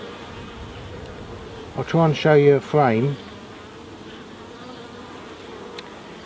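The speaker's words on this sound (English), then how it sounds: "You can see there's a lot of bees on this pate." Honey bees buzzing on a hive frame in a UK apiary during the June gap, a steady close hum throughout, with someone speaking briefly over it midway.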